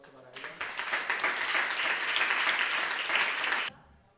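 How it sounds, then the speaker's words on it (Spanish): An audience at a composers' workshop during a Spanish music festival in Cádiz applauds, a dense, steady burst of many hands clapping that swells, holds for a few seconds, then stops abruptly. "por favor, un fuerte aplauso para ella."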